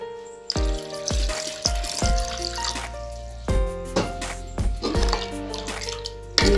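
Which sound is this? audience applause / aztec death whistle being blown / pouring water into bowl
pouring water into bowl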